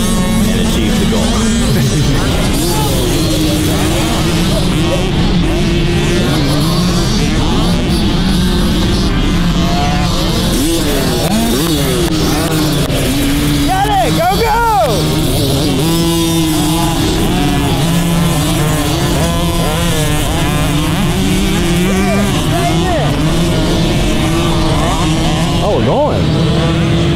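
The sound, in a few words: motocross bikes riding practice laps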